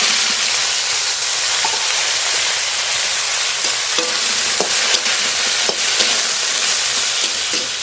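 Chopped, washed eggplant dropped into oil with fried garlic and spices, giving a loud, continuous close-up sizzle with scattered clicks of stirring throughout.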